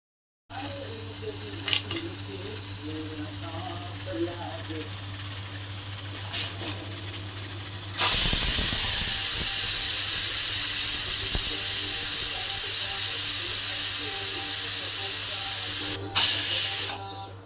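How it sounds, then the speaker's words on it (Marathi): A pressure cooker cooking egg biryani in a home kitchen gives a low steady hum and faint hiss. Then comes a loud, sustained whistling jet of steam that runs about eight seconds, breaks briefly and bursts again. "आता कुकरला आपण 2 शिट्ट्या करून घेऊ."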